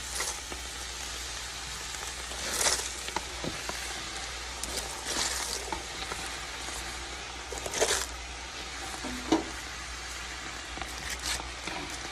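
Cabbage cooking down in a hot covered pan gives a steady, soft sizzle and crackle, like light rain on a surface, with a few louder pops and spits scattered through.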